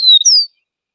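A single bird gives two clear, drawn-out whistled notes, the second slightly higher, then silence.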